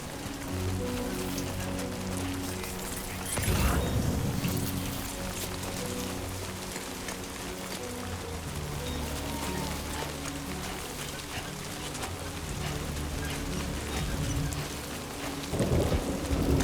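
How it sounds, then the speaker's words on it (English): Heavy rain pours steadily in the video game Death Stranding 2, with deep thunder rumbles rolling in twice over the constant downpour. "Great. Rain. Gotta move."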